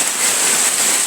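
Heavy rain pours down in a village, a loud, even hiss of falling water that fills the short moment without any break.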